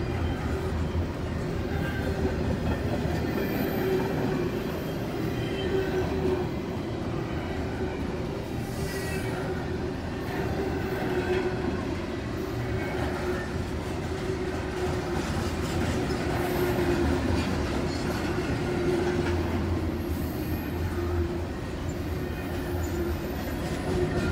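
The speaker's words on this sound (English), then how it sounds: "we saw two trains coming in the same direction" A long, heavy rumble of a BNSF freight train rolling past at Camp Rd, Moreland, Georgia, with steady wheel noise, rhythmic clacking and occasional squeals, loud and close throughout.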